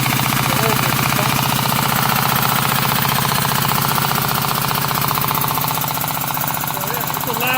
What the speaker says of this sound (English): This is a nitrous pump.